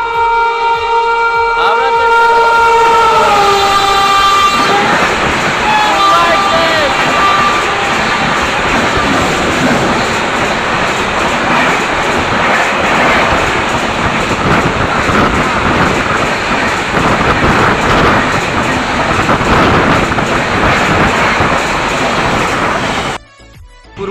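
An express train passes close by at a railway station platform, a loud sustained roar of rolling wagons with rhythmic rail clatter, opening with a horn blast, steady for over twenty seconds before cutting off.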